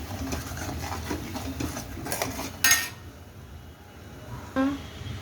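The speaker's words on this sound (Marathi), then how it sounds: "पण मसाला छान असा परतून घ्यायचा." Pav bhaji masala is stirred and sautéed in a pan: a close metal spoon repeatedly scrapes and clinks against the pan, with two louder knocks near the middle and the end.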